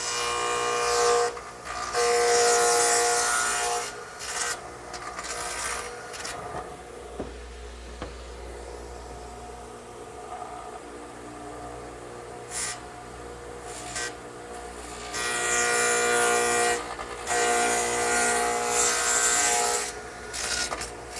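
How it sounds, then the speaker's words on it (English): A radial arm saw fitted with a dado head cutter whines and rasps through wood in several long passes, loud bursts broken by quieter pauses and a low motor hum between cuts. "I'm going back to the radial arm, which is set up with the dado head cutter"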